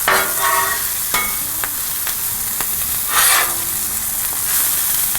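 Smashed boudin burgers sizzle loudly and steadily on a Blackstone griddle, with sharp clicks and scrapes of a spatula breaking through the hiss every second or so.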